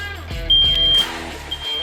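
A household smoke detector being tested sounds a piercing high beep, one sustained tone followed after a short gap by a second, loud and close against a faint room hum.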